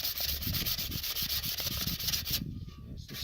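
Sandpaper rubbing by hand in fast, even back-and-forth strokes, close and steady, stopping near the end.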